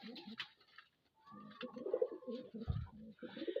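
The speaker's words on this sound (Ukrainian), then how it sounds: "Вот, молоді голубенята." Young pigeons coo softly in a loft, low throaty murmuring calls rising and falling close by, with a few faint chirps and no speech.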